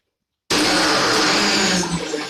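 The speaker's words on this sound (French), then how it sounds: "maintenant, on va broyer tout ça, on va mixer" A blender grinding and mixing ingredients for a homemade medicinal drink for two people starts abruptly after a brief silence, then roars loud and steady as a broad whir with no talk over it.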